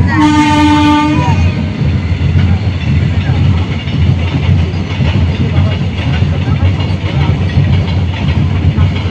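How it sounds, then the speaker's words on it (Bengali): A train passes close by on a nearby railway line, opening with a loud horn blast and then a sustained roar of rumbling wheels and rattling cars that fills the scene. "ট্রেন যাচ্ছে"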